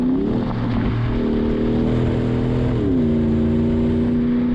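A Range Rover Sport L320 with a Magnaflow exhaust drones loudly at close range, its deep engine note holding steady, stepping up in pitch and then easing down as the revs change.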